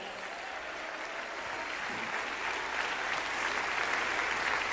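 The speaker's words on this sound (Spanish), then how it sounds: "Dele ese aplauso al Cristo resucitado." A church congregation applauds during a sermon, a broad, continuous roar of clapping that swells slightly louder toward the end, sounding spread out across a large room.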